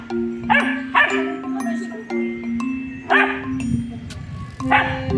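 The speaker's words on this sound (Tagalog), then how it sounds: "Tahol ka kasi ng tahol." A dog barks in short bursts, four or five times, with a person talking in between and over the barks.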